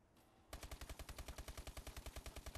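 Rapid automatic fire from the Strider gun in Call of Duty: Advanced Warfare, a steady stream of about twenty sharp, evenly spaced shots, loud and close, with no talk over it.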